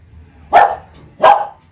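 A dog barks twice, loud and close, with a short pause between the sharp barks, reacting to a delivery.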